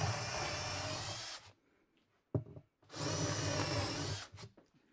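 A power drill drives Kreg pocket-hole screws into wood in two loud, steady bursts of about a second and a half each, separated by a pause with a few brief clicks.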